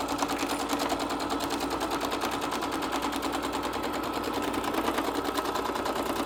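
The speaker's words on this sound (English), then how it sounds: "remember you're going to sew off of your fabric and leave a tail so that your stitches don't come undone" A sewing machine stitching rows of a quilt together runs in a fast, steady mechanical chatter, close and continuous from start to finish with no talking.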